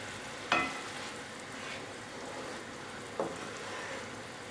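Ginger curry with jaggery simmers in a pot with a faint steady sizzle, broken by a few soft scrapes of a stirring spoon, quiet and close.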